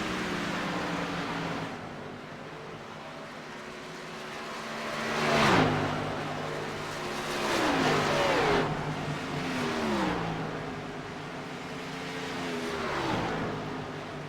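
Dirt-track race cars on a Kansas oval roar past one after another, their engines swelling and fading with pitch drops as each car passes, over a constant background drone from other running cars.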